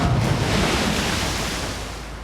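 A dense, steady wash of sea waves in the video game Sleeping Dogs rolls continuously, loud and close, with a faint low rumble underneath.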